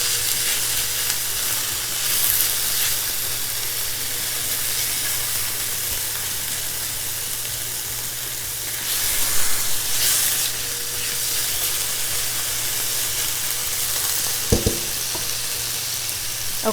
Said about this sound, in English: get that mixed around with the onions and the garlic